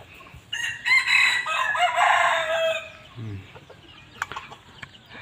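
A rooster crows loudly and nearby in one long call, followed by chickens clucking and other birds faintly in an outdoor setting.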